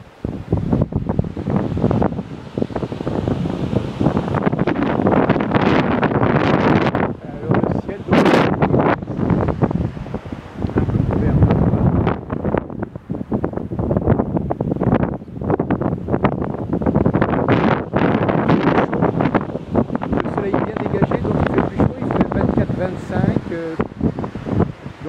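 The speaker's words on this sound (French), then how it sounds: "à part le vent qui peut être un peu gênant" Strong wind buffets the microphone at a seaside port on Réunion's west coast, a loud continuous roar with gusty swells that runs throughout, while a person talks over it.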